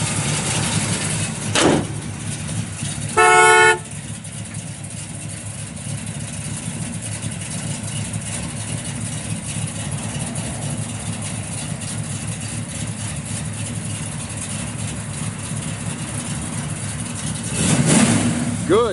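A 1964 Pontiac LeMans convertible with a 455 engine and dual exhaust cranks briefly, then settles into a steady low rumbling idle close by, with a short rev near the end.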